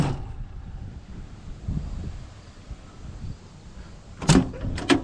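Car door with a newly swapped handle is worked under faint wind noise, ending in a few sharp, close clicks and thumps of the latch and door.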